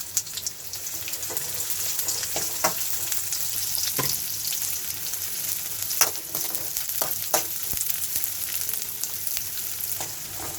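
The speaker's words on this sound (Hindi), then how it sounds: "ये प्याज इसमें डाल रहे हैं, मुझे इसको थोड़ा गोल्डन फ्राई कर लेना है।" Onions fried in a spoonful of oil in a hot kadhai, giving a steady moderate sizzle with scattered clicks and scrapes of stirring throughout.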